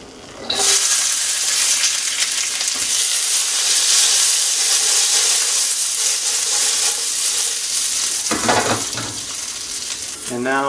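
Beans dropped into a hot pan alongside sausage burst into a loud, sudden sizzle that holds as a dense, steady hiss, with a burst of stirring clatter near the end.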